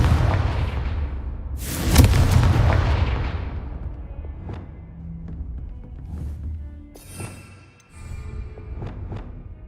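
Confringo fire spell explosions in the video game Hogwarts Legacy, a heavy booming blast that rolls and decays, followed by scattered smaller pops, crackles and impacts at varying distance.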